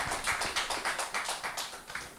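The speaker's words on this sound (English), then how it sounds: "Give him a round of applause." A small group claps at a poetry event, a scattered patter of hands that swells and fades over a couple of seconds, with no voices.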